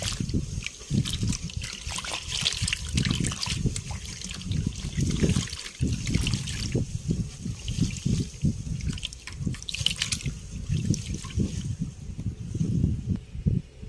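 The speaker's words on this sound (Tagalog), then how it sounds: "Haluin lang natin para matunaw mabuti yung salt." Vinegar marinade with salt, plenty of black pepper and garlic being stirred to dissolve the salt, giving a steady wet swishing and trickling of liquid that stays close and continuous throughout, with no talking.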